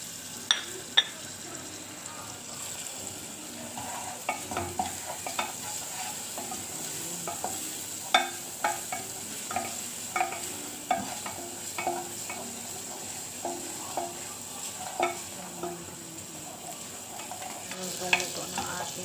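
Spices sautéing in a pan for molokhiya with chicken, with a soft continuous sizzle broken by repeated scraping and stirring clicks of a utensil, close and fairly quiet, with no talking.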